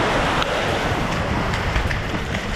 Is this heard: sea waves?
yes